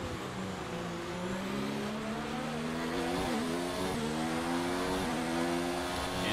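F1 car in F1 2019 with its engine accelerating: a continuous, high-pitched racing whine that climbs through gear changes, steady and fairly loud, with no voices.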